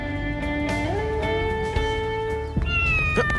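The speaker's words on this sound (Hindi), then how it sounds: "अरे ये बिल्ली है।" A cat meows repeatedly in close, clear, drawn-out calls over a steady low background, with a rising final cry near the end.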